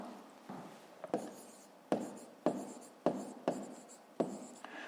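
A pen scratches out a math exercise on paper in quick bursts of strokes, each starting with a sharp tap, close and fairly quiet, with a faint voice heard briefly.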